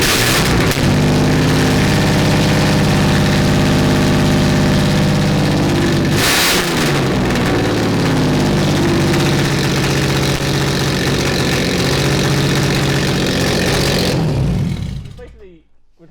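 Toyota Mark 2 GX71 small straight-six with two straight pipes idles loudly at close range, a raw, buzzing steady drone with one sharp blip of revs partway through, then cuts off near the end.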